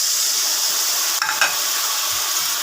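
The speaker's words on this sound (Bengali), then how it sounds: "দিয়ে দিচ্ছি এই পরিমাণ জল।" Water poured into a hot pan while cooking a chhana and brinjal curry, giving a steady, loud hissing sizzle with a couple of brief clattering stirs partway through.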